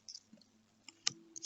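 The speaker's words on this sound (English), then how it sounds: "Let's draw a few clarification cards." Cards drawn from a deck give a few soft, sparse clicks and snaps, close and quiet, with a sharper flick near the end and no talking.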